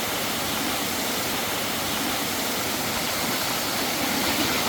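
Small hot-spring waterfalls in Krabi, Thailand, with water at 40 to 50 degrees, make a steady, loud broadband rush of falling water that continues without a break and has no voices over it.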